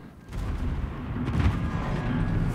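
A battleship's gun salvo in a naval video game rumbles as a deep, rolling barrage of booms, steady and moderately loud over a low background.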